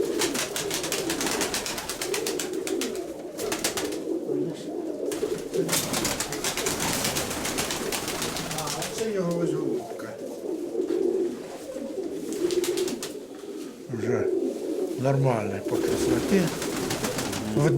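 Fancy pigeons cooing in soft repeated low throaty calls, with rustling and a voice talking intermittently over them.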